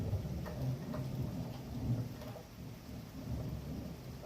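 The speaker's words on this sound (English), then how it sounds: "thunder is about to happen." Thunder rumbles low and steady under heavy rain during a storm, with a continuous loud wash and no voices.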